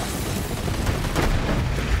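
Plasma weapon fire in Borderlands 3, a dense, loud, continuous barrage of rapid energy shots with booming impacts filling the whole stretch, with no talking.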